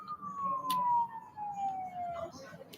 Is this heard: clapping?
no